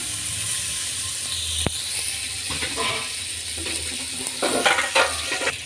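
Onions fry in hot oil for a Kannada dill mosappu dish, a steady close sizzle with a sharp tap early on and a few stirring scrapes toward the end.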